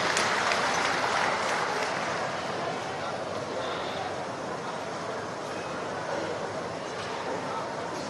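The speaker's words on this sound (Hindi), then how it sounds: "जोरदार तालियों से आइए माननीय मुख्यमंत्री जी का स्वागत करते हैं।" A crowd at a Gramodaya public meeting in Dhar, Madhya Pradesh, gives loud, sustained applause to welcome the chief minister, with voices over the broad clapping throughout.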